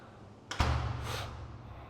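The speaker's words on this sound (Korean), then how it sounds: "여기 방화문을 열고 방화문으로 들어가서 문을 닫아볼게요." A heavy fire door in a building is pushed open and swung shut, giving a sharp nearby thud followed by a loud, lingering low rumble and hum that slowly fades, with no talking.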